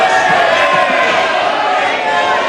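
Members of India's Lok Sabha in Parliament raise a loud, sustained roar of cheering and shouting, a dense crowd din with scattered claps filling the chamber throughout.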